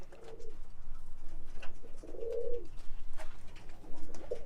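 Young roller pigeons cooing close by as they are released outdoors, soft low warbling coos in a few separate bouts over steady background noise.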